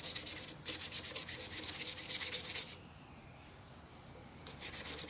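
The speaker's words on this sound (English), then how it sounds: "between sandpaper grits, I stop the lathe and I go with the grain" Walnut pen blank hand-sanded along the grain on a stopped lathe, with steady rapid back-and-forth rubbing strokes up close, a quiet pause, then the strokes resuming.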